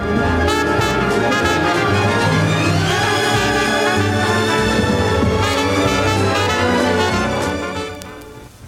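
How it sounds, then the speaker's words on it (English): Symphonic music and jazz sounding at once from a single stereo record groove played by one stylus, a dense, loud jumble of orchestra and band overlapping before fading at the end. "two separate programs of music which sound like this when played together at the same time by the same stylus in the same groove"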